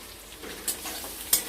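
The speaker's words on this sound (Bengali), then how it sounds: "পটলটা ভাজা হতে থাক" Soft sizzling of pointed gourd frying in oil, with a couple of sharp scraping stirs cutting through the low crackle.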